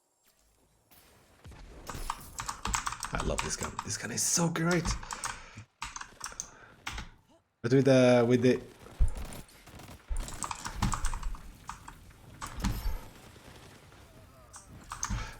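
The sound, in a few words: computer keyboard and mouse clicks while playing Destiny 2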